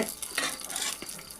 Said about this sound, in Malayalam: ഈ കടുക് വറുത്തത് ഇതിലേക്ക് ഒഴിച്ചു കൊടുക്കുക.